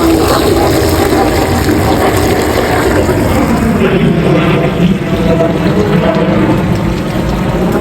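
An airplane passes overhead near an airport, a loud sustained broadband roar that fills the whole stretch beside an outdoor grilling spot, steady and close with no talking over it.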